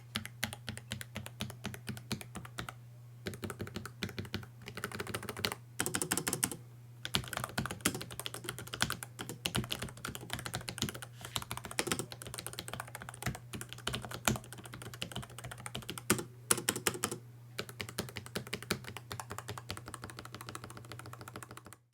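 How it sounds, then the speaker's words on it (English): Rapid, steady typing on an ROG Falchion RX keyboard with optical mechanical switches, dense clicky keystrokes running continuously close up with only brief pauses, over a constant low hum and no talking. "you want to hear how these ROG RX optical mechanical switches sound"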